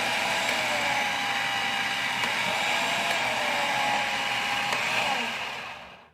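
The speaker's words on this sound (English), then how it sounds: "once you get used to using your food processor, you can switch from high to low" A food processor motor runs with a steady, loud whirring hum that keeps going without a clear pitch change and then fades out at the end.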